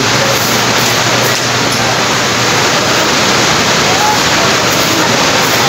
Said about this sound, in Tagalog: at malakas ang ulan sa labas